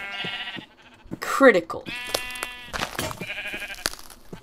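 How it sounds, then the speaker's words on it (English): Sheep bleat in the Minecraft modpack Crazy Craft, several bleats close by alongside other game sounds while a player talks. "Okay, sheep."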